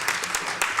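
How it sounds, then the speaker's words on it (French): A brief burst of applause from an audience in a hall at a panel on women and media, a dense patter of hands running steadily for under a second. "Une salle d'applaudissements"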